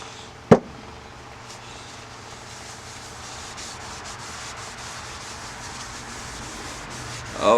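Howard's Feed-N-Wax is rubbed by hand onto a natural edge walnut bowl, a soft continuous scrubbing and rubbing texture after a sharp knock near the start, building slightly louder toward the end.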